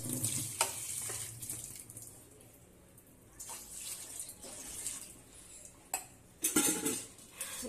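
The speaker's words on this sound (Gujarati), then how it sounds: "મૂકીશું ઢોકળિયું અને એમાં 2 લોટા પાણી એડ કરીશું." A metal dhokla steamer pot set on a lit gas stove with water poured in, clanks and scrapes of metal on metal, a splash of pouring water and scattered clatters close by in a quiet kitchen.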